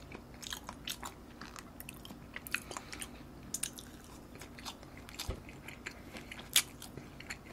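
Tuna sushi wrapped in seaweed is chewed close up, soft crunchy bites and wet chewing in an irregular rhythm, quiet with no talk.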